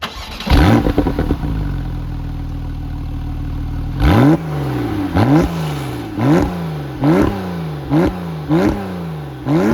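Porsche 911 Carrera 4S with dual exhaust starts up loudly, settles into a rumbling idle, then gets a rapid series of sharp throttle blips, each climbing and falling away, close and alone.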